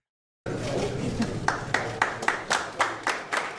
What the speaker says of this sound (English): look at all those rich people in that room clapping